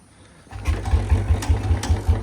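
An engine turns over and catches, then settles into a low, pulsing idle that throbs in a steady rhythm, close and loud.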